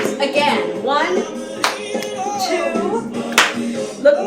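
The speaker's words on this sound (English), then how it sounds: "You'll look up, you clap twice." Hand claps ring out in pairs and singles during a dance class, sharp and close, set against an instructor's steady talking and counting throughout.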